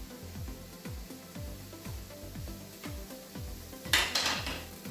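A utensil scrapes and taps repeatedly against a pan as sautéed apples and zucchini are stirred, giving a steady rhythm of close, clinking strokes about twice a second, with a brighter clatter near the end.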